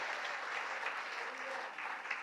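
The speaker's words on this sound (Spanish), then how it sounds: "Denle un aplauso al Señor si usted lo puede creer" A church congregation claps steadily for a couple of seconds, a dense, even patter of applause heard from some distance.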